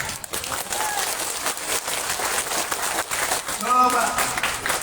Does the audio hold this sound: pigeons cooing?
no